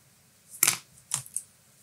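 Cutters snipping a squid skirt to length for a fishing assist hook, one sharp close snip followed by two smaller clicks in quick succession.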